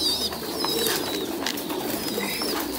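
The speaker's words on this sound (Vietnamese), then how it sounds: "Ở trên này thì có những cặp bồ câu gà Mỹ mọi người nhá." Several pairs of very large American giant pigeons, reddish-brown, yellow and black, cooing and calling in a busy loft, with steady low murmuring and scattered higher chirps throughout.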